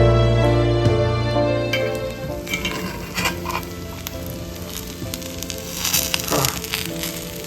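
Socca, a chickpea flatbread, sizzles steadily in a pan with a loud, continuous frying hiss and crackle throughout.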